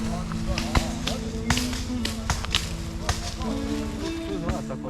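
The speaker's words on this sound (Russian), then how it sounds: "А люди пришли на окраину леса и рубят здесь топорами, слышите стук?" Axes chopping young oak trees at the edge of a forest in Serbia on Christmas Eve, sharp irregular knocks ringing out over a steady background of voices and music.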